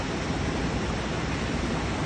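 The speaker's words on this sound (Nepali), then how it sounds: "ल पानीले चल्ने चिज यो" A water-powered ghatta grain mill runs with a steady, dense rushing roar of flowing water and machinery, continuous and close throughout with no voices.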